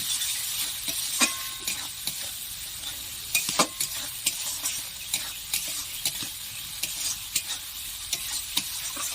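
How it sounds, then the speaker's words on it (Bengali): Tomato paste is stirred and fried in a pan for a prawn and pointed gourd dish, with a steady low sizzle broken by repeated scraping and clinking strokes of the spoon against the pan. "টমেটো বাটা এটা আমি ভালো করে কষে নেব"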